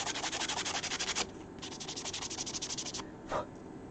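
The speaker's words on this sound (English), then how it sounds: "Now that it's been rough sanded, I can use my sanding block again." A sanding block rubs over a resin 3D print in quick, rhythmic back-and-forth strokes, soft and close, with brief pauses between runs.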